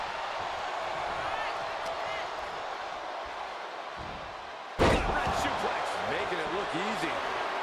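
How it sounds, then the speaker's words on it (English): A wrestler is slammed face-down in WWE 2K23, one sharp, heavy impact cutting through steady arena crowd noise, followed by a louder crowd roar as a commentator talks. "then slamming their face down"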